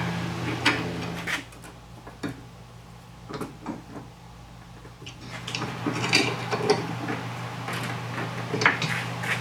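A socket wrench works on a bolt fitting a front flag mount, producing a series of irregular metallic clicks and ratcheting taps, close and moderately loud over a low steady hum.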